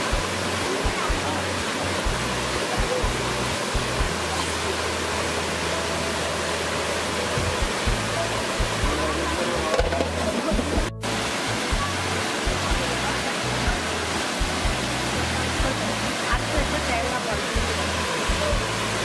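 A waterfall roars steadily at a spot where an Indian fish curry is being cooked outdoors. The broadband rush of falling water is dense and continuous throughout, with faint low thumps and handling noises mixed in.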